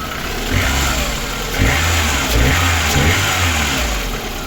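A VAZ 21099 1.6 car engine rumbles loudly up close, revving up several times in surges over a steady idle.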